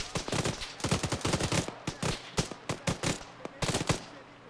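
Rapid automatic gunfire crackles in an Arma 3 battle during an alternate-history Falklands invasion, dense bursts of loud cracks in quick rhythmic volleys with brief gaps between them.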